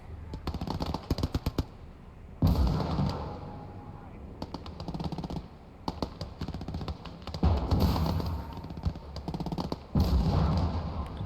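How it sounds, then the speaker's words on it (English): Gunfire bursts and heavy booms crack out repeatedly near and far on a farmstead battlefield in the WWII game Gates of Hell Ostfront, including Jagdpanzer tank cannon shots, with someone talking over the action. "it's taking shots from the Jagdpanzer"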